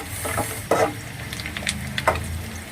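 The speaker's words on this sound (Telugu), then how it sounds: "లైట్గా వేయించుకోవాలి ఫ్రెండ్స్ ఎక్కువ వేయించొద్దు లైట్ లైట్గా మరీ వేగిపోకూడదు" Chicken sticks fry lightly in hot oil, giving a soft, steady sizzle with a few brief louder spatters and stirring clinks, close by and with no talking.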